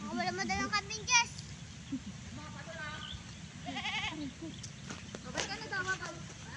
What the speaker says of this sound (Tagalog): Wala mo dalang kambing, Jess.